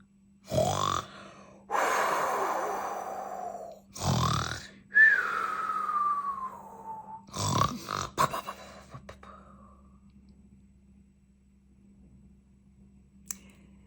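A storyteller's voice imitates the Gruffalo snoring, with several deep, throaty grunting snores spaced a second or two apart, followed by a rising-and-falling whine, clicks and a long fading quiet.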